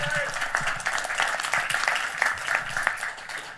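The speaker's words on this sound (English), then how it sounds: "Let's give a round of applause." An audience claps in a steady, lively round of applause, many hands together at moderate loudness with a voice speaking faintly over it.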